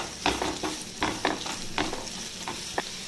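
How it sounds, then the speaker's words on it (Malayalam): Chopped onions are sautéed in melted butter in a pan for a beef caldereta. A steady sizzle runs under repeated scraping strokes from a spatula or spoon being stirred through, each stroke close and distinct. "ഇതിനകത്തേക്ക് നമ്മൾ അരിഞ്ഞു വെച്ചിരിക്കുന്ന ഉള്ളി ഇട്ട് കൊടുക്കാം."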